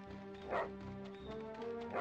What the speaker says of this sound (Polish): I ciągle szczekaj, to jest się bardzo ważne.